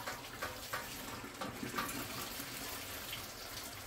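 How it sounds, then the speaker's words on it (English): Hot sparge water poured over the back of a ladle onto grain for brewing beer makes a steady, soft splashing and trickling rush that runs continuously. "And just pour the water in on the back of the ladle."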